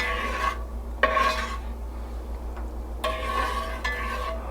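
A spoon scrapes and stirs sugar in a stainless steel pan for buttery pecan brittle, rasping strokes in bursts roughly every second or two, close and clear over a low steady hum.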